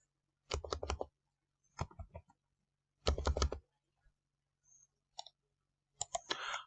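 Quiet clicking from a computer keyboard, typed in a few short separate bursts with pauses between them and no voices.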